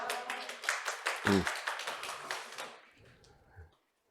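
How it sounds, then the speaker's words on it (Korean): A lecture audience claps at the start of a real-estate agent law exam prep class, brisk applause for about two and a half seconds that then thins out, followed by a few faint thumps and quiet. "시작이니까 박수 치고 하는 거지 이제."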